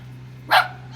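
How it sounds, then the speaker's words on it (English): A single short dog bark, close by and fairly loud, rising briefly over a steady low hum at an outdoor skateboarding session. "That dog don't like you"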